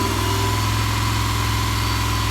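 A restored 1974 Volkswagen bus with a newly installed engine runs steadily nearby, a loud, even mechanical hum with a fast rhythmic pulse and no talk.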